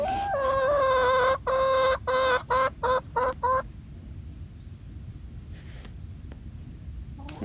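Backyard farm chickens clucking and crowing close by, a loud run of drawn-out calls breaking into quick choppy clucks, then a quieter stretch with only faint outdoor background.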